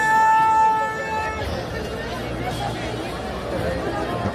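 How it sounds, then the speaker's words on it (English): Crowd noise at a concert in a big Mexico City stadium, a dense steady babble of many voices after a brief tone at the start, heard at moderate level. "That's another clip from the crowd."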